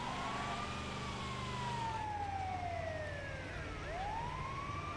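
Ambulance siren in the video game GTA 5 wailing continuously, sweeping slowly down and then snapping back up in pitch, heard steadily at moderate distance over faint road rumble with no talking.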